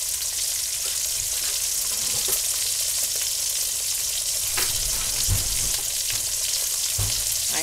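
Pork chops brown in a pot with a steady, loud sizzle and dense crackling, punctuated by a few soft thumps and scrapes as they shift, no voices present.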